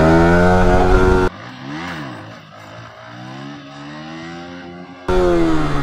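Yamaha R15 motorcycle revving hard in first gear during a wheelie, a loud, close engine wail that drops to a lower rising and falling drone, then surges to full roar again.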